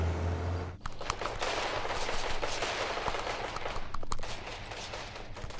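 Rapid gunfire in a Hindi film action scene, bursts of sharp shots cracking loudly and near, with a brief hush before the shooting begins and steady firing continuing to the end.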